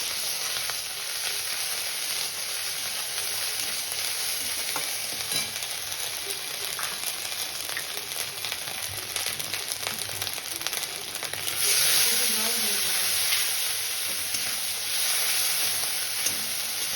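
Ginger paste frying in about two spoons of white oil left from frying peanuts, a steady close hissing sizzle that runs unbroken and swells briefly louder partway through.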